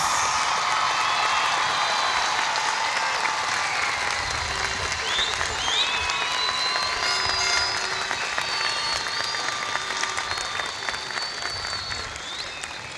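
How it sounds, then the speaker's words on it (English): A large crowd at the San Benito High School 2014 commencement ceremony applauds the graduates' parents, with dense sustained clapping and scattered cheers and whistles that hold steady before slowly tapering near the end. "please stand proudly and receive a round of applause from a grateful graduating class"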